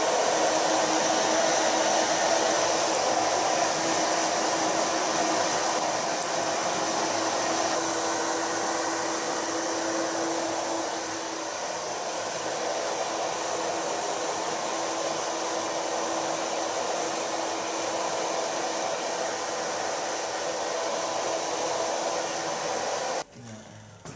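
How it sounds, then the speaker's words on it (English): A hair dryer blows on a man's gel-styled hair while fingers work through it, a loud, steady close-range whoosh that runs without break for about twenty-three seconds before cutting off abruptly. "Blow drying with the use of my fingers."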